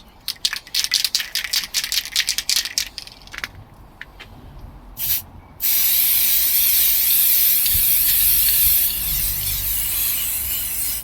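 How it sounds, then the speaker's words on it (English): Several short rattling bursts and brief hisses, then a long continuous close spray hiss of stove spray paint on a barbecue and fire pit, lasting several seconds. "we've got some stove paint, spray paint, so we're just going to give it a lick of paint"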